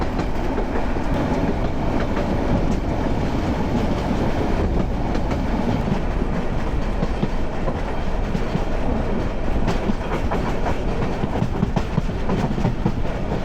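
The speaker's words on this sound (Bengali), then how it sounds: "ট্রেন কিন্তু বিশাল কার্ভ নিছে এখানে" The Probal Express rumbles loudly and steadily along the rails on a long curve in thick fog on the run to Cox's Bazar, with continuous wheel clatter, heard up close without voices.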